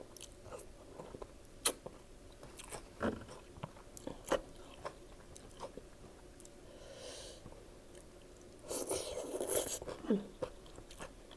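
Fresh raw vegetables from a heaped salad platter are crunched and chewed close up, with irregular crisp bites and a denser burst of crunching near the end, with no talk.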